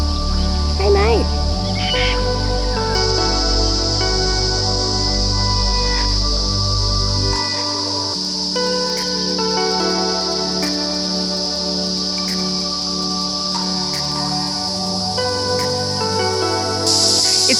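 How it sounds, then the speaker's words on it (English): Cicadas by a lake in the Kimberley, Western Australia, buzzing in a loud, piercing, continuous high drone throughout, with occasional bird calls and low background rumble beneath. "the cicadas are so loud through sections near the water, ear piercing"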